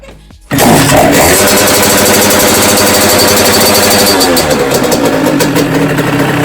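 A small moped engine, a 86 fitted with a Bidalot exhaust, fires up abruptly after a short moment of quiet and then revs loud and raspy, with a buzzing, rattling drone that continues close by.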